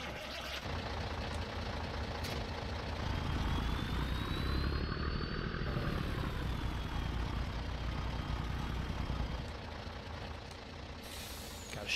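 A Peterbilt 389 truck in Farming Simulator 19 runs with a steady low engine rumble throughout, a long air-brake-like hiss rising and falling over the middle, with no voices.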